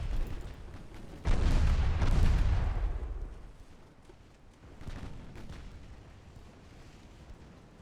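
A torpedo launch in a naval warfare video game sounds as a sudden loud boom that rolls into a rumbling whoosh and fades, followed by a quieter second surge of noise.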